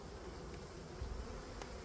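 Honey bees hum and buzz softly from an opened hive, a low, continuous drone with no other sounds around it.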